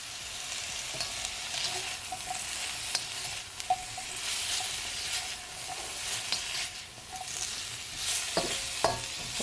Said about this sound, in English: stir fry for at least 20 minutes because you don't want it to be too soft